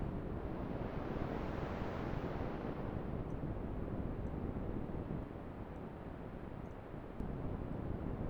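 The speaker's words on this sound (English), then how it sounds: "This might be a wind around some alpine lodge." Synthesized wind effect resembling gusts sweeping around an alpine lodge, a steady, loud broadband rush with a slow swell in the first seconds, continuous throughout with no voices.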